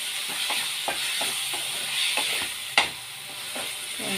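Onions and tomatoes fry in a pan for egg curry, a steady sizzle and hiss broken by repeated scraping stirs and one sharp clack of a utensil, close and with no voices.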